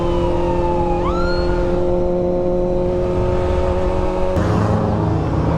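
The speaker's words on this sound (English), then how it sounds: "What's up, ambulance?" An ambulance siren wails past on a street, its tone sweeping upward and holding loud over steady traffic and engine rumble, then cutting off abruptly near the end.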